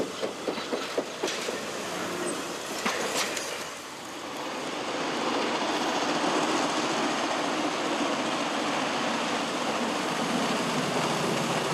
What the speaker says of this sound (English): she relives the glorious memory of one of the fastest and most powerful locomotives of all time, the N&W Class A's.